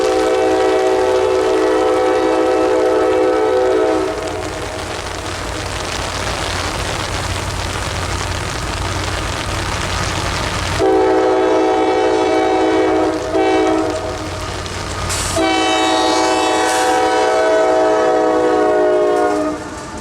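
Two combined CSX coal trains roll past steadily in falling rain on the Etowah subdivision, with long, loud horn blasts sounding over the rumble of the wagons.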